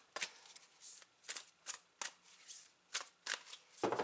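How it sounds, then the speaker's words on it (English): Quick riffling and snapping of a deck of tarot cards being shuffled close by, several brisk bursts in a row with short pauses between. "I'm going to continue my shuffling very quickly."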